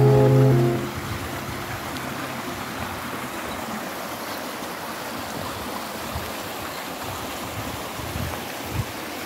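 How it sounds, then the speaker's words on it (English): Steady broadband rushing water from a waterfall at Morialta Conservation Park, continuous and fairly loud, with a brief low tonal hum at the very start. "the art of the park unveiled an awe-inspiring waterfall."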